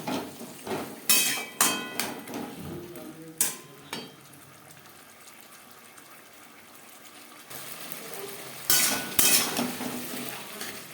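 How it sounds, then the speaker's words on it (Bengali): Spoon clattering and scraping in a pan while potatoes are stirred with spices, loud bursts of strokes at the start and end around a quieter stretch of soft sizzling. "মশলার সাথে দু তিন মিনিট আলু নাড়াচাড়া করে নেওয়ার পর"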